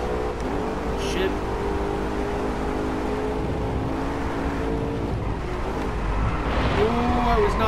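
Maserati GranTurismo MC Stradale engine in the racing game DRIVECLUB, a steady sustained drone with shifting pitch as the car accelerates, loud throughout and mixed with faint background game noise.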